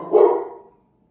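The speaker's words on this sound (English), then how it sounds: "It wouldn't be a live or a video of mine if it wasn't the dog barking." A single close dog bark, loud and short, fading quickly into silence.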